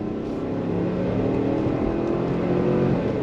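A 2024 Chevy Suburban accelerates hard under throttle, its engine a steady loud rising drone with road and wind noise from inside the cabin, with no voices.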